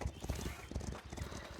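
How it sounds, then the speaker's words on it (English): Horse hooves clip-clopping in the city-building video game Foundation, a quiet, steady rhythmic trot of hollow clops repeating several times per second, alone with no talk. "All I can hear is that horse"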